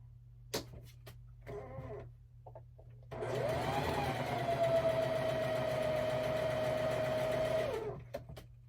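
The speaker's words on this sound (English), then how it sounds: "let me sew these together real quick." A sewing machine stitches quilt blocks together. It gives a brief start, then runs in one steady, close whirring burst of about five seconds before stopping, with a few light handling taps around it.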